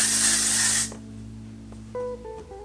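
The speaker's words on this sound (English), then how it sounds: "add some Kristen S Soft Shine Beach Wave Spray just to add a little bit more texture" Short broadband hiss of Kristen S Soft Shine Beach Wave Spray being misted onto hair, loud and close for under a second, then quiet room tone with faint tonal sounds.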